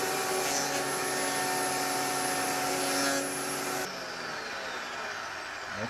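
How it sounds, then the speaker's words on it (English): A power planer shaves wood for a homemade guitar, a loud steady broadband roar that runs for almost four seconds and then cuts off, leaving a quieter rushing hum. "I'm going to plane this."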